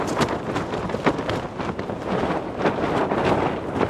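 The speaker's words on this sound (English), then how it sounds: "That wind is picking up again." Wind gusts at a mountain camp beside a tent, a steady loud rush of buffeting air battering the microphone, with no one speaking.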